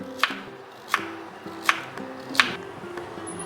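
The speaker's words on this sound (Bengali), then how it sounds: "একটু জিরি করে কেটে নেব মানে এটাকে একদম পাতলা পাতলা" A knife slicing a vegetable paper-thin on a board for dal, four crisp, evenly spaced cuts, quiet and close.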